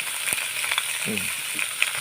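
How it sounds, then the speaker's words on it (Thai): Pork belly fries in a pan for a salt-and-chili stir-fry, a bright, constant sizzle with scattered pops and crackles and a brief low scrape of stirring in the middle. "เอาหมูลงกระทะเลย"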